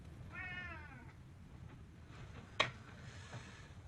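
A cat gives one clear, drawn-out meow early on, followed by quiet room noise and a single sharp knock or thud a moment later.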